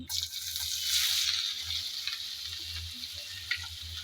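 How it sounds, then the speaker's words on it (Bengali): Chopped onion drops into hot oil left over from frying prawns and sizzles loudly at first, then settles into a steady frying hiss with occasional stirring. "যে তেল ছিল সেই তেলের মধ্যে দিয়ে দেব পেঁয়াজ কুচি"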